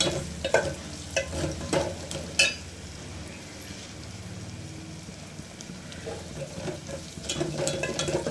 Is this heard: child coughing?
no